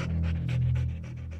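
A dog pants rapidly and rhythmically up close, quick breathy huffs in a steady run.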